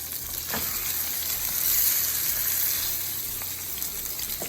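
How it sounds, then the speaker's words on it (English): Salmon pieces frying in a pan for coconut curry salmon, making a continuous close, loud sizzle with faint crackles and a couple of soft stirring or scraping touches, no voices. "now we're gonna be flipping our salmon"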